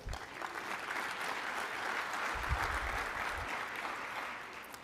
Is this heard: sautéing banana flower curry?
no